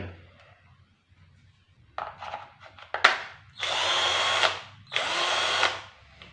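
A cordless impact drill runs up close. It gives a few short trigger blips and clicks, then two sustained loud whirring bursts with a pause between them, and no one speaks.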